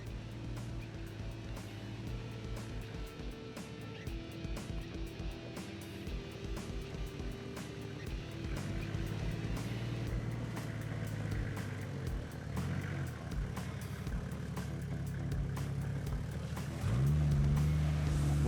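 A Toyota Landcruiser 105 pushes through deep muddy water off-road, its engine droning low and steady under a rhythmic churning and sloshing, closer and louder toward the end.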